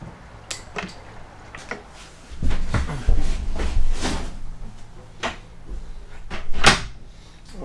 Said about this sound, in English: Why not just close the door?